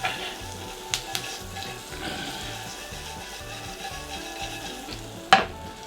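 Squid sizzles steadily as it fries in a hot wok for salt and pepper chilli squid, with a few sharp clinks and one loud clatter near the end over continuous crackling.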